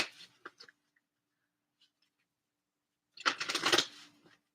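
Oracle cards being handled during a reading: a few soft taps and rustles at first, a near-silent pause, then a dense burst of card shuffling riffling for about a second before fading out.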